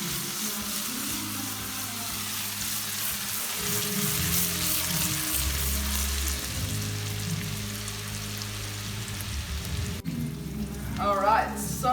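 Butter and sage sizzle in a hot pan with a steady, rain-like frying hiss, heard close. A voice talks softly underneath.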